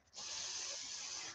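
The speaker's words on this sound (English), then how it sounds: "So all I'm doing is just spraying through the mesh right onto the lure." An airbrush sprays paint through mesh onto a peacock bass fishing lure, giving a steady close hiss that starts abruptly and holds evenly for over a second.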